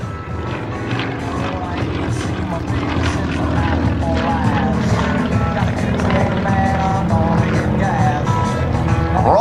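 Yak-50 aerobatic plane performing a rolling reversal at an air show, its radial engine droning steadily and loudly throughout with a rising and falling pitch as it maneuvers, crowd ambience underneath.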